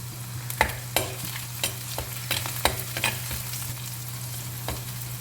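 Small onions and green chillies sauté in hot oil with a soft sizzle, punctuated by a string of sharp spoon scrapes and taps against the pan, close by and without speech.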